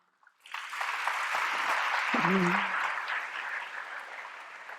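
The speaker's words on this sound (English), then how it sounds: "Huge applause for them." A school crowd claps steadily for several seconds for graduating seniors, the applause swelling and holding, with a brief voice calling out partway through.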